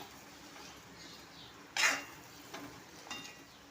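Bitter gourd being stir-fried and turned in a pan, a soft steady sizzle with one sharp scrape of the spatula near the middle and a couple of lighter stirring clacks after it.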